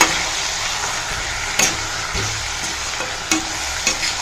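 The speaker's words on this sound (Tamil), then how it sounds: "இதை நம்ம அப்படியே வதங்கட்டும் நல்லா கூழாக ஆகணும்" Mango thokku with chili powder sautés in a pan, a soft steady sizzle broken by a few sharp spoon scrapes and clinks against the pan, close but fairly quiet.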